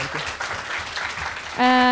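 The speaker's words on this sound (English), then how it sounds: "a round of applause also for Luca for organizing this conference" Brief applause from a conference audience, a dense patter under voices, cut off near the end by a sustained steady tone.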